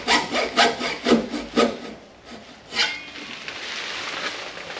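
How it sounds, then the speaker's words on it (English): A hacksaw cuts off a wobbling piece of wood in a woodturning shop: several quick, loud back-and-forth strokes, followed by a softer, continuous rasping hiss. "Just get the hacksaw out, just cut that off."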